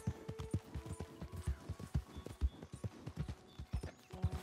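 Steady clip-clop of horse hooves at a riding pace in the Red Dead Redemption 2 video game, a quick rhythmic patter of close, moderately loud hoofbeats with no talking.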